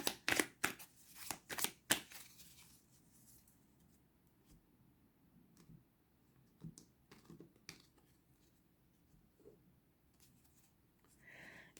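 Three tarot cards are drawn from the deck, with a burst of quick, close card flicks and snaps at the start, then quieter scattered shuffling and handling sounds.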